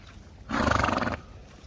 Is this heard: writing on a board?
no